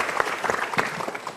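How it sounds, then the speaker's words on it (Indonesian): Studio audience applause at a Mario Teguh talk show, a short burst of steady clapping from a crowd. "Ya, kita berikan tepuk tangan dulu."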